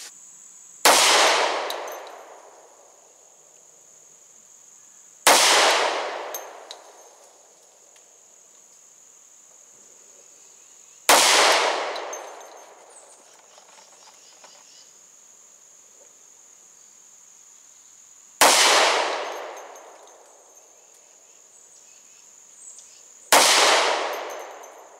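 Five loud gunshots fired one at a time at a 30-yard target outdoors, each sharp crack followed by a decaying echo, spaced several seconds apart over a steady high insect chirp.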